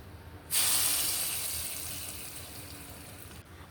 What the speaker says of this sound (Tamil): அந்த எண்ணெயை சுட சுடவே எடுத்து அப்படியே நம்ம ரெடி பண்ணி வச்சுருக்கிற மாங்காயில் ஊற்றி கிளறி விடுங்க